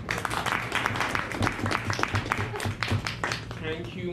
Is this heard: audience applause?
yes